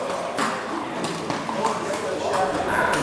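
Harness racing horses' hooves clip-clop on the racetrack at an exhibition drive, a faint, loosely rhythmic patter heard under the steady voice of an announcer over a loudspeaker.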